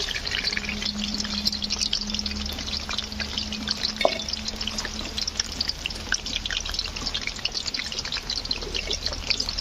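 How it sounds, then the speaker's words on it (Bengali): Palm-fruit fritters (bora) deep-frying in oil give a steady, fairly loud bubbling crackle that runs unbroken, with a faint low hum underneath and no talking. "আর একটু লাল করে ভাজতে হবে"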